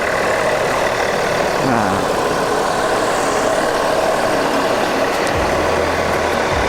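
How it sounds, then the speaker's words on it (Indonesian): A Mercedes-Benz 1526 bus engine idles at a bus terminal, with a loud, steady low throb under continuous crowd and street noise and a brief spoken word. "Mesin khas dari Mercedes-Benz. Ini sepertinya 1526."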